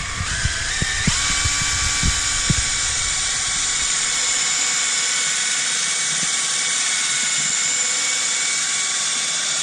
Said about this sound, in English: put about a nickel size bead of the actual product, and then just start polishing the headlight.